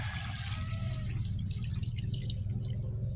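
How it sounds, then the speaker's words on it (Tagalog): Water runs steadily into a pot for chicken sinigang, a continuous splashing pour with no talking. "So, ilagay na natin ng tubig para lumambot siya."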